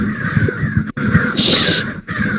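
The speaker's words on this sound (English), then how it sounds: "These crows, really." Crows caw loudly and close by outdoors, a string of harsh, rasping calls in quick succession with a brief gap partway through.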